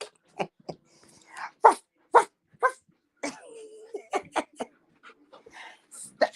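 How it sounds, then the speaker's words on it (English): A dog gives a series of short, sharp barks and yips close by, spaced irregularly, with a person talking between them. "I'm trying to get her to bark."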